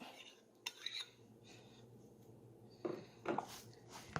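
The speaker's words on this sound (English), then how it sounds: "You want to mix it up to really combine properly." A spoon clinks and scrapes in a bowl while granola bar ingredients are stirred together, with soft irregular taps and a few louder clatters close by and quiet in between.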